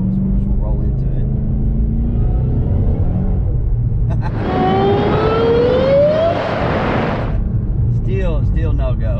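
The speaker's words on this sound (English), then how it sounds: "we're gonna see how good the F1 tires will actually grab a hose. So we're just gonna roll into it." A GT500 on F1 tires rolling forward, a steady low engine rumble throughout, rising into a louder rising whine and roar in the middle, with a voice talking over it.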